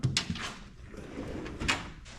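Drawer of a hardware cart in a garage workshop sliding open or shut, a few brief scraping and knocking bursts close by, with no one talking.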